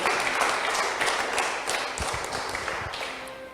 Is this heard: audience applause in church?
yes